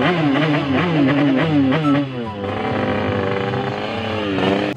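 Motorcycle with a loud aftermarket exhaust revving hard on a street, repeated throttle blips rising and falling in pitch before settling into a sustained rough idle, close and loud with no talking.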